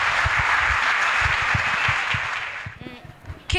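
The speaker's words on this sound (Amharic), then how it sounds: "አጨብጭቡ በደንብ ለጌታ ክብር" A church congregation claps together in a dense, loud burst of applause that fades near the end, with a voice speaking underneath.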